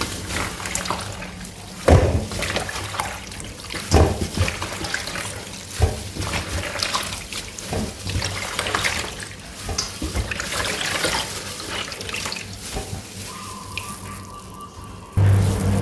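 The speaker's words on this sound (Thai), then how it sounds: "ล้างน้ำสุดท้ายค่ะ" Kaffir limes rinsed in water in a kitchen basin, with continuous splashing and sloshing, intermittent louder splashes and a running tap near the end, close and steady without talk.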